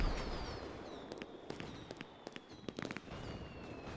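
Fireworks go off in a Roblox game, with faint, scattered pops and crackles over a soft background hiss, quiet and somewhat distant.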